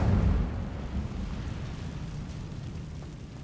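An Incendio fire spell bursts in Hogwarts Legacy, a heavy rumbling whoosh that hits loud at the start and fades into a low, crackling roar, with no speech.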